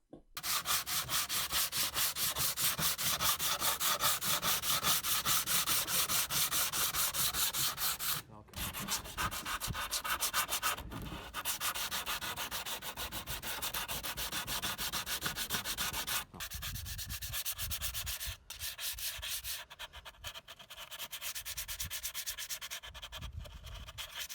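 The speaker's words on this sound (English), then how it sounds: "And I gave it a really good sand" Steady abrasive rasping as filler is sanded down on the hull of a 1/250 scale Yamato battleship model, continuous close-up rubbing strokes broken by a few brief pauses, with no talking.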